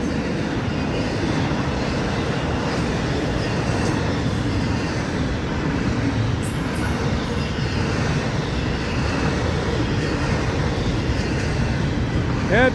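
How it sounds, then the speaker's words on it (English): A long FECR freight train, including yellowish UPS domestic containers, rumbles steadily past a grade crossing at CR 206 in St. Augustine, Florida, with a continuous broadband roar throughout and a faint squeal near the end; a voice talks briefly over it. "Yeah, it's a good sized train today."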